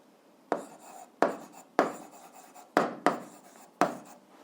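A pen scratches across paper while a physics problem on kinetic energy is worked out, in six short, close strokes spaced about half a second apart, each starting sharply and then fading.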